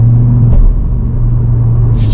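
An Audi RS3 8Y with a Milltek race aftermarket exhaust idling with a deep, steady rumble and a low drone, close by; a brief blip around the middle.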